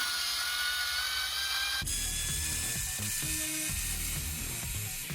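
Ratchet loosening bulkhead bolts on a Serpent RC car, a rapid continuous clicking that carries on steadily throughout, close and fairly loud, with no talking.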